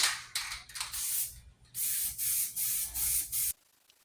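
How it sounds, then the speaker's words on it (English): Short bursts of spray paint hissing from a can onto a pallet-wood planter box, about seven puffs of varying length in a steady rhythm, close and fairly loud, then silence. "we'll grab some spray paint and paint her."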